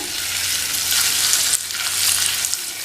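Boiled eggs fry in masala in a pan over a low flame, producing a loud, close, steady sizzle with soft stirring movements and no talk.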